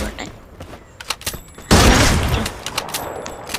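Gunfire in the Free Fire video game: a series of clicks and short pops leads into a loud burst of shots and a booming blast, followed by trailing rattles, with some voice mixed underneath.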